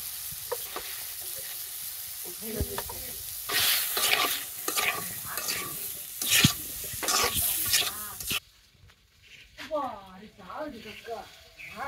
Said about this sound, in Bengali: দিয়ে দিলাম সবজি ভেজে নিই